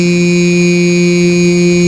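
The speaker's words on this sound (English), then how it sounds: "Beep! It was the sound of a hospital heart monitor when a green flat line stretches endlessly across the screen" Hospital heart monitor sounds its flatline alarm, a single loud, steady electronic tone held without a break.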